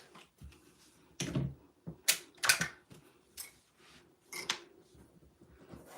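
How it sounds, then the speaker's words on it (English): Scissors fussy-cut a stamped paper image, giving a few soft, scattered snips and clicks at irregular intervals in a quiet room. "let's go ahead and fussy cut out this one."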